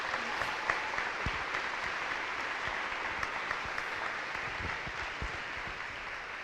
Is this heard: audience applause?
yes